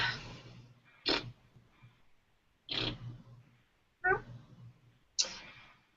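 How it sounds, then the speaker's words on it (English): Several short cat meows with pauses between them, fairly close and clear, over a quiet background hum. "Yes, I heard the meow."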